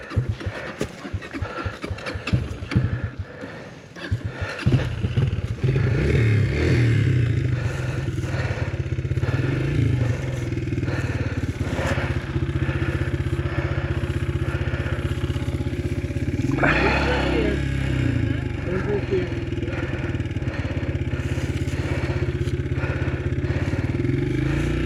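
A 2025 Kawasaki KLX300 dirt bike climbs a trail hill, its engine droning steadily and loudly up close after a rough, clattery start, with throttle swells and scraping off-road noise throughout.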